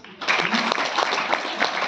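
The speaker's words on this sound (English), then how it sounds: "A round of applause." An audience at a Kenyan business gathering breaks into sustained applause, dense clapping rising quickly and holding steady at close range throughout.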